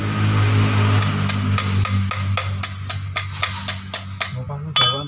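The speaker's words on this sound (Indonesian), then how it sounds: "Gua palu." Hammer blows on a Toyota Calya oil filter while it is being removed: about a dozen sharp metallic strikes in a steady rhythm, close and loud, over a constant low hum.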